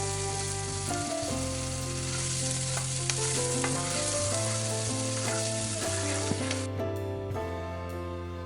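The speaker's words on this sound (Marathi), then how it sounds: "आता आपण हे सर्व चांगल्या प्रकारे मिक्स करून घेऊ व या कांद्याला छान असा गुलाबी रंग येईपर्यंत तळून घेऊ" Chopped onion and cumin fry in oil in a pan, a continuous crackling sizzle with occasional stirring knocks under steady background music; the frying hiss cuts off near the end while the music carries on.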